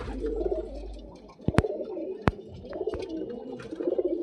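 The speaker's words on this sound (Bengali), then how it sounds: "এই হচ্ছে পায়রা, এটা মাদি পায়রা, গোলাপি পট্টির পায়রা আছে।" A female pigeon with pink bands coos close by in soft, low, repeated phrases, broken by two sharp clicks partway through.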